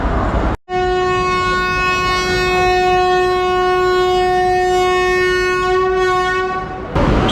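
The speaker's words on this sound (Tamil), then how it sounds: "ட்ரெயின் இப்போ 7:05க்கு திருச்சியிலேருந்து புறப்படுது." Long steady horn of a passenger train departing Trichy station on the Madurai to Villupuram route, a sustained harmonic blast lasting several seconds, loud and close after a brief cut at the start.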